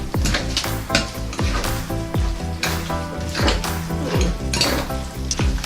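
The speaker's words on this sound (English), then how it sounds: "let's do the final tossing with the olive oil" Tabouleh salad being tossed with olive oil in a bowl, giving repeated wet stirring and clattering strokes with utensils scraping against the bowl, close and fairly loud, no talking.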